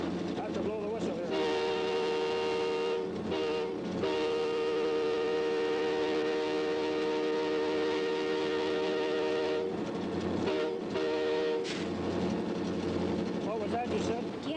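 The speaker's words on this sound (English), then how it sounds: "I have to blow the whistle here." A locomotive whistle blows in long sustained blasts from the cab, with short breaks between, over the rumble of the moving train.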